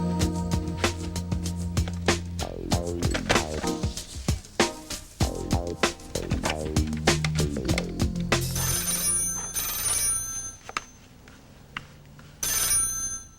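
A telephone in a mystery video game rings after a number is dialed, with a rapid series of bright ring bursts and tones repeating, then quieter ringing after pauses.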